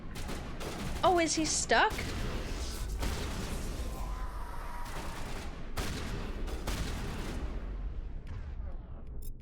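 Gunfire in Mass Effect 1 under a noisy battle bed, with sharp shots and bursts scattered through, while someone talks briefly over the action.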